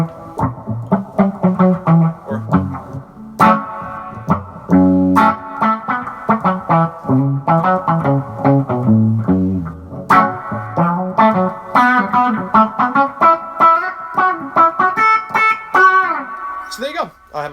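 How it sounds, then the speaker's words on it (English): An electric guitar runs through a distortion pedal within a pedalboard chain reviewed alongside a Phred Instruments Ernesto VH Gen 2, playing loud, driven riffs, chords and melodic runs continuously for the whole stretch. "I have my distortion on that one too."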